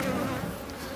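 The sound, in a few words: honeybees buzzing at a hive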